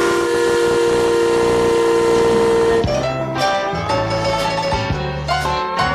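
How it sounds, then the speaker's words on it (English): An old-fashioned steam whistle, the collectible kind once used on ships, trains and mills, blows a long sustained loud tone and then shifts into a series of lower chord-like blasts with brief breaks between them. "we have a collector who has steam whistles, the old-fashioned kind that you used to hear on ships and trains and mills"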